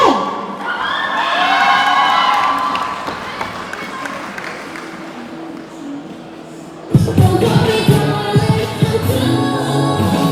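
A cosplay contest audience cheers and whoops as a cosplayer dressed as Ochako Uraraka from My Hero Academia comes on stage. Loud crowd shouting fades down, then a sudden burst of close cheering and clapping.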